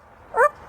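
Parrot mimicking a dog's bark, giving a single short yelping bark-like call, clear and fairly close, alone in a quiet room.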